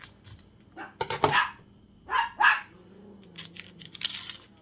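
Max, a small guard dog, barks at home in a series of sharp, loud barks in separate bursts, with short quiet gaps between them and no talking.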